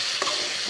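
Tomatoes fry in hot oil while being stirred for a peanut chutney, a steady broadband sizzle with a brief scrape of the spoon, close and continuous, no voices.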